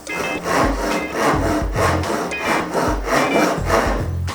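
A Japanese pull saw works through wood on its small-toothed edge, starting slowly in rhythmic rasping strokes about two per second, close and steady with no voices.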